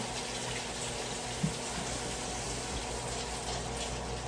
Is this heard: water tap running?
yes